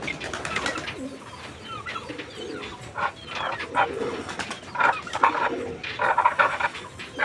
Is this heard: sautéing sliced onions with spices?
no